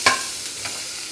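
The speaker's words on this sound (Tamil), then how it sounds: "இப்போ நம்ம அரைச்ச விழுதை நல்லா வறுத்துக்கலாம்." Ground spice paste for tomato rasam sizzles in a hot pan while being stirred, with a brief louder scrape of the spoon at the start and a steady soft frying hiss throughout, no voices.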